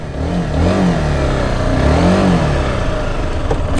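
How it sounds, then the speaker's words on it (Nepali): A tractor engine revs loudly and close by on a rural hill road, a continuous throaty mid-pitched roar that rises and falls in pitch across a few seconds, with no voices. "लाइन बाई लाइन ट्र्याक्टर हो है, यहाँको ट्र्याक्टर यस्तो हुन्छ क्या"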